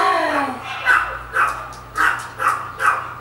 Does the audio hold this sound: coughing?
no